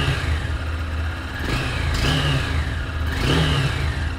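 A 2025 Honda Hornet 2.0 motorcycle's exhaust note at close range, idling with a low steady burble and then rising in two or three short throttle blips that fall back to idle.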